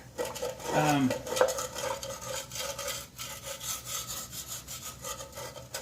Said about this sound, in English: we're going to start off by getting rid of the gunk with a gasket scraper